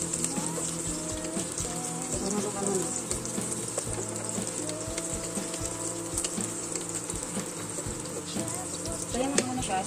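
Garlic frying in oil in a pan for a penne pasta dish, a steady loud crackling sizzle running throughout with scattered small clicks, close and continuous, no voices.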